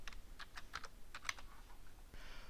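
Quick light keystrokes on a computer keyboard, a short burst of irregular clicks followed by a brief pause and a final tap, quiet and close with no voice.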